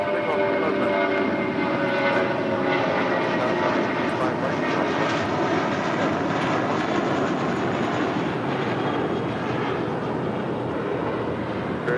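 A Spirit Airlines Airbus A320 jet departs LAX on runway 25 right bound for Atlanta, its engines a loud, broad, steady roar that holds for the whole stretch.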